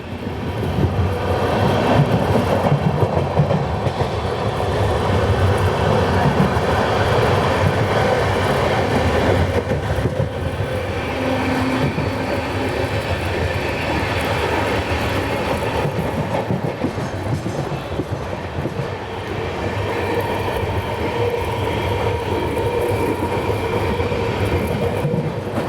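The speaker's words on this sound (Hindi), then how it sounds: "अभी हमारी ट्रेन बल्लीकेरे हॉल्ट पे ओवरटेक करने जा रही है हुबली आरसीकेरे एक्सप्रेस को" Shirdi Mysuru Express rolling along the rails, a steady loud rumble with rhythmic clickety-clack of wagon wheels throughout, no voices.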